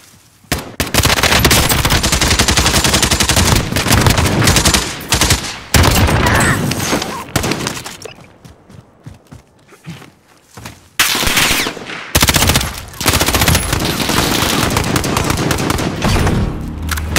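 Automatic gunfire in the Call of Duty: Warzone video game, long loud sustained machine-gun bursts with a calmer patch in the middle before heavy firing resumes, close and dense.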